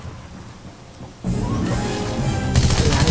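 Gunfire in the video game Fortnite, a quiet lull giving way to sustained loud automatic shots, then an even louder burst of rapid fire near the end, no talking.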